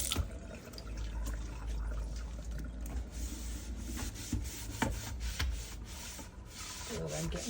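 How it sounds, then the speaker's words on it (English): Close, steady rubbing and scrubbing of a cloth over a quartz composite sink, a continuous wet swishing with occasional louder strokes and no talk. "I'm going to wipe down the sink a bit."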